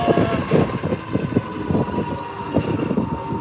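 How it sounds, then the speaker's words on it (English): A moped ridden on the way to a pickleball game gives a steady, close engine drone with wind rush that holds throughout, with no voices. "I am riding my moped for the first time"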